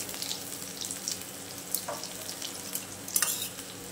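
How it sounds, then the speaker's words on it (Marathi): Cumin and coarse garlic paste sizzle in hot oil in a pan for a pickle-style raw mango dish. The frying is soft and steady, with scattered crackles and pops and a slightly louder burst near the end. "जिऱ्याला तळतळी आली चांगली।"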